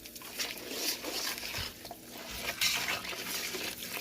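Chili being mixed into vegetable fried rice in a pan, with scraping and clinking of a utensil against the pan and soft stirring rustles in a few uneven bursts, close and fairly quiet.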